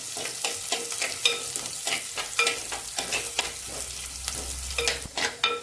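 Garlic and green chilli sauté in a pan, a soft continuous sizzle punctuated by rhythmic scraping stirs every half second or so, close and fairly quiet with no voices.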